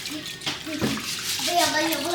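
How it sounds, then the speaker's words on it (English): Water sloshing and splashing as rice is washed in a cast pot, a steady close wet swirl with a voice speaking over it. "I wash rice."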